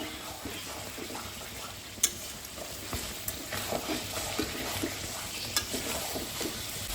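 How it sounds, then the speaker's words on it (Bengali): Mutton pieces are sautéed in oil in a kadai for a Bengali potato-and-goat-meat curry, with a constant close sizzle broken by scraping stirs and a few sharp clinks of a spatula against the pan. "আরেকটু আমি মাটনটা কষাবো"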